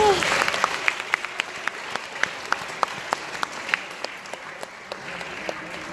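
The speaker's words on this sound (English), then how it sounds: "Let us give our parents a resounding applause." An audience claps at a graduation valedictory address, applauding the graduates' parents with a steady wash of applause and a few sharp, distinct claps standing out nearby throughout.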